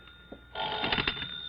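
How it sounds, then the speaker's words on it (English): An old telephone bell rings, a brief rattling metallic burst heard close and fairly loud after a faint hum, with no talk. "You'd better answer that phone, hadn't you?"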